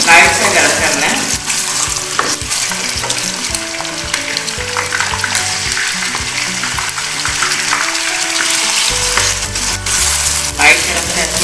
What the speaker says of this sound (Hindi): ये 1 प्याली घी है और इसमें हम गोश्त डाल रहे हैं